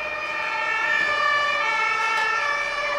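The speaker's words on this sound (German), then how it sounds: "Nein, das sind keine Krankenwagen. Das sind Polizeiautos." Police car sirens wail loud and close at an accident scene, steady overlapping electronic tones holding for a few seconds with faint road noise beneath.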